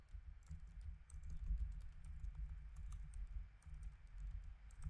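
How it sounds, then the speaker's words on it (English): Continuous typing on a computer keyboard, a fast irregular patter of crisp key clicks close to the mic over a low steady room hum, with no talking. "my typing"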